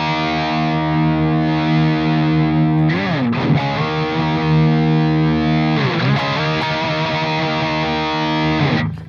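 Electric guitar played through an ENGL Savage 120 amp simulation plugin in smooth mode, producing sustained distorted chords with bursts of faster picked notes, loud and continuous with no voice.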